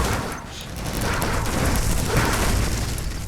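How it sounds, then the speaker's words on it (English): Flashbang explosions in the C&C Generals video game, heard as a dense, continuous roar of booming detonations that builds slightly and holds, loud and unbroken, with no talk. "you can see just how quickly those flashbangs murdered that angry mob"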